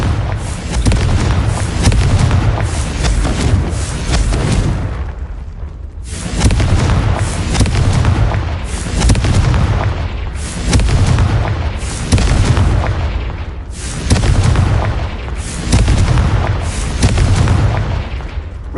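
Confringo fire-spell blasts go off in a video game, loud booming explosions that come in a steady series of bursts, each one rumbling on for a couple of seconds before the next hits.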